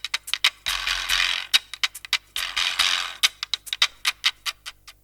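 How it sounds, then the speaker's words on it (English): A cleaned donkey jawbone quijada, its loose teeth rattling in the sockets, struck acoustically: dry clattering rattles alternate with sharp woody clicks in quick irregular bursts, close and fairly loud with no talking. "a donkey jawbone that has been cleaned of tissue so the teeth can rattle in the sockets"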